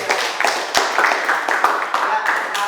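Schoolchildren in a classroom clapping together at the end of an Islamic studies lesson on avoiding promiscuity, a dense, steady patter of many hands with lively voices mixed in.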